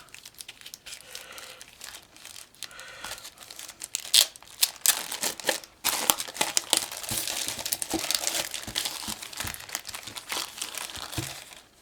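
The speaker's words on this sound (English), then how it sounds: "All this extra tape that they taped on here to tape the bag closed." Extra shipping tape being peeled and torn off a taped-shut thrift haul bag, with continuous crinkling, ripping and rustling of plastic close up that grows louder and busier partway through, and no voices.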